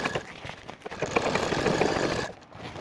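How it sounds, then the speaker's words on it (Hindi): A sewing machine stitches through a cement sack, a close, loud mechanical whirring chatter that builds and runs continuously for a couple of seconds before easing off near the end. "मैं दोस्तों यही सिलाई मशीन से ही कपड़ा सिलाई करता हूं और इसमें भी चौट यही सीमेंट का बोरा भी सिलाई करके आपको दिखा रहा हूं।"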